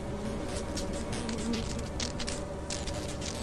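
A dense swarm of bees drones continuously in the horror video game Lethal Company, a loud, close, buzzing hum with fluttering wingbeat texture and no speech over it.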